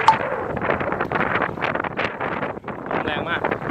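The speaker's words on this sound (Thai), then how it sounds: "ลมแรงมาก" Strong gusts at the Khun Dan Prakan Chon reservoir buffet the microphone in repeated roaring bursts that rise and fall over a few seconds, with a voice partly under the noise.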